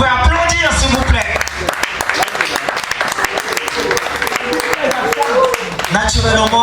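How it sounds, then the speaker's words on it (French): An audience gives sustained applause after a slam poetry performance, a steady dense clapping with voices and music heard around it. "Si vous avez vécu cette performance, est-ce que vous pouvez applaudir, s'il vous plaît?"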